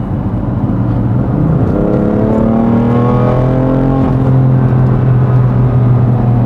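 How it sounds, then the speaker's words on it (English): A BMW F81 M3 Touring fitted with a competition exhaust pulls hard under acceleration. Its engine note climbs steadily in pitch, loud and close, with a smooth, continuous rising drone and no talk over it. "it is just the comp spec exhaust, so it's not super loud"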